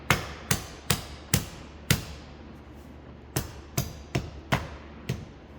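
Window trim on a crashed Mercedes-Benz GLK being pressed back into place, with a series of sharp knocks and taps, about ten distinct hits in irregular clusters, close and fairly loud over a low steady hum.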